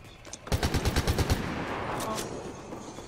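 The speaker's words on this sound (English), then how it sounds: "I'm getting shot at." Burst of automatic gunfire in the video game Fortnite, about eight rapid close shots, followed by softer continuing game noise and faint later shots.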